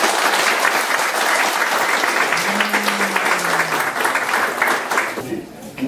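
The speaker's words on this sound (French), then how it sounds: "On applaudit évidemment nos deux représentants." An audience at a retirement party claps enthusiastically in a dense, sustained burst of applause that fades near the end, with a brief raised voice cutting through partway.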